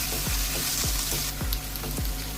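Chopped chillies and garlic sizzle and crackle steadily in hot oil for a village-style fish tempering, close and loud, with repeated stirring scrapes at a regular pace and no voices.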